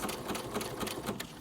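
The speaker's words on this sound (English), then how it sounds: "you're going to want to take out your pins and sew nice and slow all the way around the curves" A sewing machine runs steadily, stitching fabric slowly around a curve on a dog treat bag, a close, continuous motor whir with faint rhythmic needle ticks and no talking.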